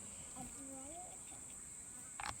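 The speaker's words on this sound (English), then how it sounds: "there's a midgie. It's the thing about the bush. It's full of bugs." Midges and other insects drone steadily in the bush at a camping spot, a thin high-pitched buzz that runs unbroken throughout, with faint low rustles underneath.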